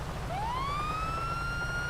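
In GTA 5 (FiveM role play), a police car's siren, triggered together with its lights, rises in one smooth upward sweep and sustains a steady wail above a constant low vehicle hum, with no talking.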